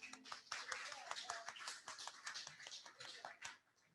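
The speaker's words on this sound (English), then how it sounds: "Let's clap for him." A small group at a hybrid Rotary meeting claps, heard as faint, scattered, distinct hand claps with a few voices mixed in before tapering off.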